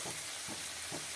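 Chopped green chilies sauté with softened onion and garlic paste in a pan, giving a soft continuous sizzle with three gentle stirring scrapes, quiet and close.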